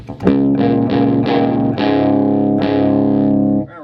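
Telecaster electric guitar chords strummed on a clean tone in drop tuning, several ringing strums in a row, loud and close with a bright, sustained ring.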